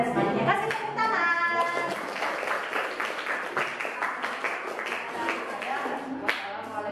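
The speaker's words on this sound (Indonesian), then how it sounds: "Kasih tepuk tangan." Classroom applause from a group of students: dense, steady clapping sustained for several seconds, with voices mixed in and a sharp tap near the end.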